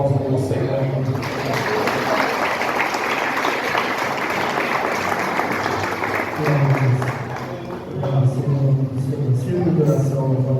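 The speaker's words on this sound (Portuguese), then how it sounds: "Que as palmas do Senhor." Church congregation applauding during a family worship service at night, a broad sustained wash of clapping running the whole stretch, loud and steady, with a low hum of voices and music underneath.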